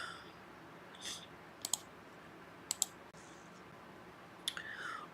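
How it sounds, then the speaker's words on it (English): Sparse computer mouse clicks, single and paired sharp taps spaced over a few seconds, close and quiet with faint room noise and no voices. "While I'm doing all this clicking,"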